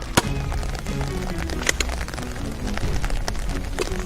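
Rain falls outdoors on a Nerf blaster test range, a steady patter with scattered sharper drops and taps, fairly faint and with no voices over it.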